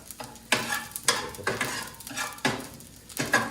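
Spatula chopping and stirring egg and rice together in a pan with cup noodle, giving repeated scraping clatters roughly every second over a faint sizzle, close and moderately loud.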